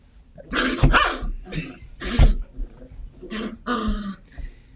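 A small dog gives about six sharp, close yaps in an irregular burst, some rough and throaty, with short gaps between them.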